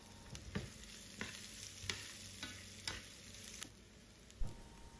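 Onion sautés in hot oil with cumin seeds in a pan. There is a faint, continuous sizzle broken by soft, rhythmic stirring scrapes roughly every half second, with no talking.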